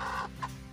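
A brooding hen that has just been placed on eggs gives a couple of soft, close clucks in a brief, quiet moment.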